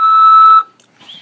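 A prison phone call system sounding a single loud electronic tone lasting just over half a second, clean and steady, followed by near silence and a faint trailing sound.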